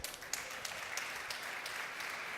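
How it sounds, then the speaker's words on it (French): Audience applause for a pastry chef at a pastry show master class: a faint, distant wash of steady clapping with a few sharper individual claps, continuous for a couple of seconds. "applaudissez-le"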